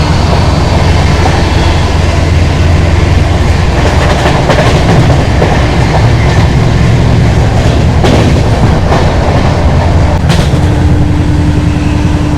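The 14206 Ayodhya Express runs through Rudauli station on the Delhi to Ayodhya route. A loud, continuous rumble is overlaid with rhythmic clickety-clack from the wheels on the rails, and no voices are heard.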